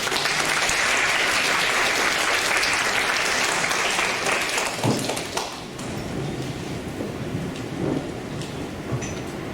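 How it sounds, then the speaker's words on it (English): Audience applause at a university lecture on Finland's foreign policy and European security, a dense, steady wash of clapping that fills most of the clip, then thins and fades toward the end. "Everyone, please give a big round of applause."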